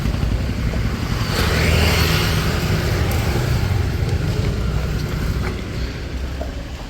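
A Mahindra Treo electric auto rickshaw pulls up close by, its motor hum blended with steady wind and road noise for several seconds, easing off slightly near the end.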